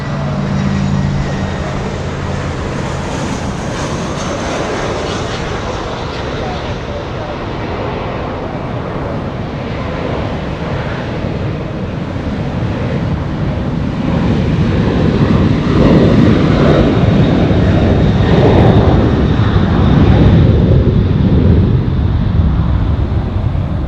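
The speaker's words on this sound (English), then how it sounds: "American 1270 flying in from Phoenix, Arizona, 52 minutes of flight time." An American Airlines Airbus A320, flight 1270 from Phoenix, arrives at Los Angeles International, its jet engine roar rising steadily from a moderate hum to a louder, fuller rush in the latter half.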